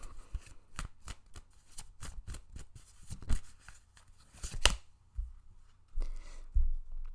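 A deck of cards shuffled by hand for a card reading, a close series of crisp, regular riffling snaps, then a few fuller rustles and taps as the cards are handled, with no voice.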